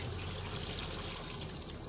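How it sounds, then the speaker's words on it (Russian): Water poured from a tap or jug into a small cooking pot in a home kitchen, a steady, close, continuous splashing stream that runs unbroken for the whole two seconds with no talking over it. "Сейчас налью воду и выйду."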